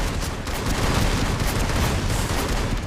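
Dense, continuous gunfire from a battle royale video game, rapid overlapping shots and bursts forming a loud, sustained barrage without pause.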